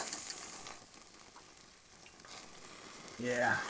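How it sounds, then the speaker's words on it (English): A steak sears on a braai grill over hot coals, a soft, continuous sizzle and crackle up close, with a person speaking briefly at the very end. "still lovely hot coals, searing off lovely. That's the sound you want."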